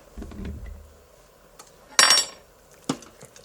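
Browned pork being stirred in an Instant Pot: a soft scraping rustle, then a sharp metallic clink of a utensil against the pot and a second, fainter clink a moment later, in a quiet kitchen.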